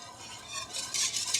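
A spoon stirring cheese sauce for mac and cheese in a pot, giving a steady close scraping swish with faint sizzling underneath and no talking.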